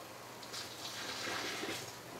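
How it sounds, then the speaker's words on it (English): Hot water is poured out of a container outdoors, a faint, broad splashing gush that swells briefly and then trails off, with no voices. "Now we'll dump this and we'll go get some fresh hot water."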